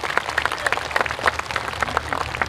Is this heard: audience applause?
yes